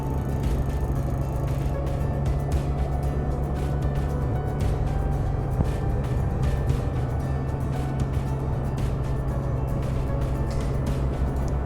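A Can-Am Spyder F3 three-wheeled trike out on the road, its steady engine drone blending with continuous road and wind rumble at an even level throughout, with no voices.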